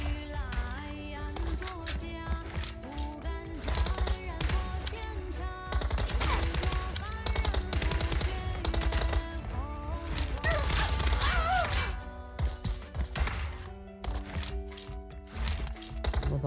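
Hip-fire gunfire in a first-person shooter video game, rapid bursts of shots mixed with music and game effects, fairly loud and continuous.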